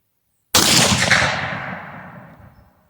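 A single 8mm Mauser rifle fires a cast bullet: one sharp, loud report that cuts in from silence and trails off in a long rumbling echo outdoors.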